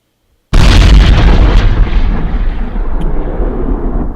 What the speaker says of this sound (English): This is when you get the bomb pickups and you drop the bomb and it explodes.